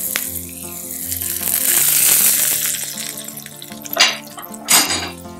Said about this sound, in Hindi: इसको अब हम लगा लेते हैं तड़का।